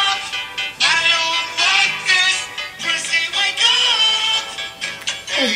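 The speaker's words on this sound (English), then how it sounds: "That's my alarm for the morning." A morning phone alarm plays a bright, bouncy music-like tune with bursts of high tones, close and fairly loud, looping continuously with no talking.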